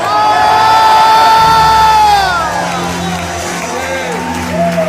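A church congregation in a Pentecostal church shouts loudly together in praise. The mass of voices whoops and cheers with sliding tones, swells, then eases off slightly, with a preacher's voice faintly mixed in.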